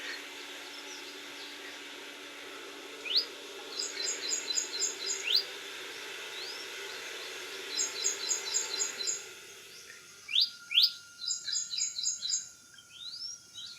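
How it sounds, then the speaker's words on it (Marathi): Small birds chirp and twitter in a village in Koparde, Satara, with repeated rapid trilled phrases and short sharp calls at moderate distance over a faint steady hum that drops away partway through, with no talking. "तुम्हाला आवाज येत असतील पक्ष्यांचे. थोडा मी शांत राहतो आणि तुम्ही पक्ष्यांचे आवाज ऐका."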